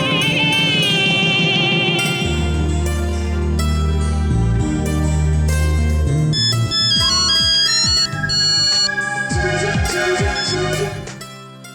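A phone ringtone plays loud and steady, a bright synthesized melody over a heavy bass pattern, continuous and close without any talking.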